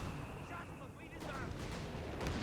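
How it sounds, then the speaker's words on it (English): Artillery barrage in the World War II strategy game Company of Heroes 3, with dense rumbling booms and crackling impacts running throughout under a continuous noisy battlefield bed. "I hear an artillery barrage coming down somewhere."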